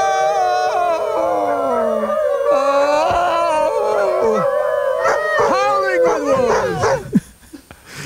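Several wolves howl together in long, overlapping, rising and falling wails, loud and close, breaking into yips and short barks toward the end.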